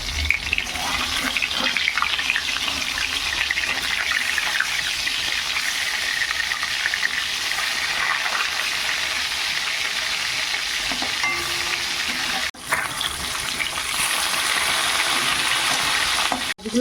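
Whole fish fry in hot oil after being turned over, a loud continuous sizzle with stirring scrapes, close and steady, with a brief dip near the end and no voices.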